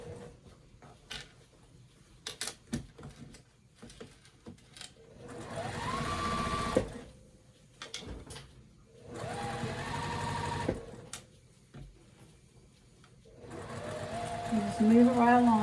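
A sewing machine stitches fabric for a quilted boxy bag at an eighth-inch seam, running in three sustained bursts separated by pauses filled with handling noise, with a voice speaking at the very end.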